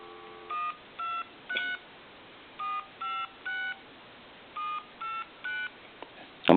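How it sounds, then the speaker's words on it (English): Telephone dialing tones from a model HD-8003 handset on a repair bench: a series of short, clean DTMF beeps, one per number, spaced at a steady pace and heard alone, ending in a brief louder clunk. "we're going to dial out here. We're going to go through the numbers."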